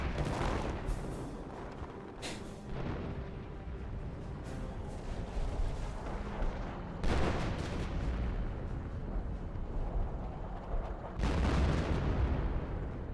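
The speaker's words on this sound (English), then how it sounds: "Artillery hitting the Hetzer." Artillery shells hitting a Hetzer tank in Company of Heroes, with repeated heavy booming blasts at irregular intervals, the biggest near the middle and end, over a constant rumble of distant battle and no voices.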